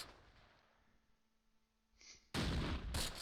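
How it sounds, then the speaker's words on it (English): A single sudden cannon boom from a tank or anti-tank gun in the Close Combat wartime strategy game bursts loudly after a quiet stretch and rumbles briefly. "I heard something sound like a cannon."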